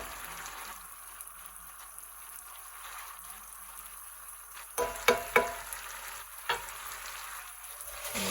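Red chilaquiles sauce with melting cheese sizzles in a hot pan, a soft steady frying hiss. Several sharper crackling stir bursts come near the end, close and clear.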